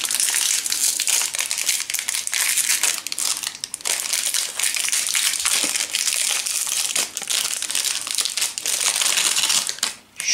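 A crinkly wrapper of Nutella-filled hazelnut wafer snacks is torn and opened close by, producing loud, continuous crackling and crumpling with rapid sharp snaps; no talking.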